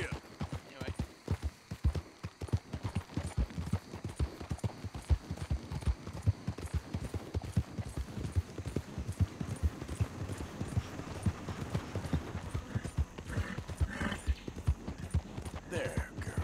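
Horse hooves gallop in Red Dead Redemption 2, a fast, steady run of close, heavy thuds that carries through the whole stretch, with game ambience faintly underneath.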